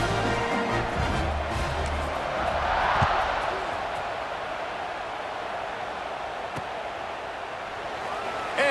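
A stadium crowd in EA Sports College Football 26 makes a broad, steady roar that swells slightly before settling into a constant wash of noise, with no clear speech on top.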